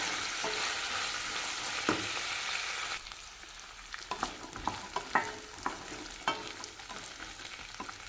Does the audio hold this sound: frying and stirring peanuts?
yes